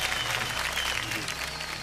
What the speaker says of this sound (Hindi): अनंत कुमार जी के लिए बहुत जोरदार तालियां बज जाएं।